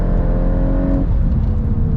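A Volkswagen Golf R Mk8 accelerates hard on a track, its engine a steady, loud drone with a shifting pitch partway through, close and continuous with no talking.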